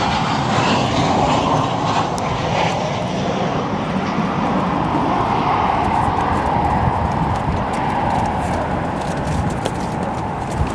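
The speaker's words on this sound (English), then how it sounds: "Let's look at our next arrival here real quick. American Airlines 737." An American Airlines Boeing 737 arriving at O'Hare International Airport, its engines giving a steady, loud broadband roar that holds level for the whole stretch with no talk.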